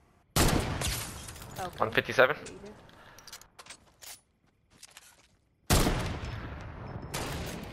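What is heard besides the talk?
gunfire in a video game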